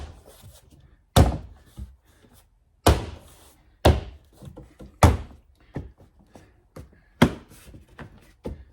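A replacement speaker is banged into the front door of a 2024 Subaru Crosstrek in about seven sharp, hollow thunks at uneven intervals, with smaller knocks and handling noises between them.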